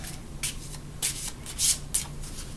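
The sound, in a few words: shuffling Vedic tarot cards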